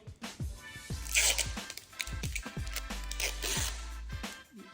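Adhesive tape is pressed onto UV-varnished wood and sharply ripped away, giving close, crackly peeling and tearing sounds in several quick bursts.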